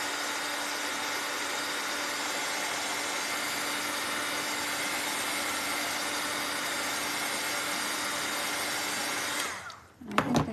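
A hair dryer blows steadily on freshly painted reindeer Christmas ornaments, a loud, even whir that runs alone for about nine seconds before cutting off with a few faint clicks and handling noises.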